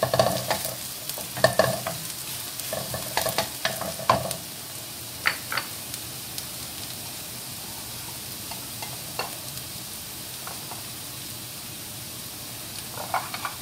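Garlic sautés in a pan for a mussel dish with catsup, giving a soft, steady sizzle with a few sharp utensil clinks and stirring scrapes early on, fairly faint and without talk.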